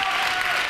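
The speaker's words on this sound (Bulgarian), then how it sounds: "Аплодисменти за Галин" A live musical show audience applauds a performer in the studio, with a brief, dense burst of clapping and crowd noise.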